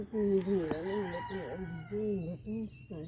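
A rooster crows loudly and close by, its long call followed by a few shorter, broken crowing notes.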